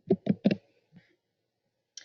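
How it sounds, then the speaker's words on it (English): Several quick keystrokes on a computer keyboard, close and fairly quiet, come in a short burst, followed by a pause and one last faint click. "I'm going to type that in."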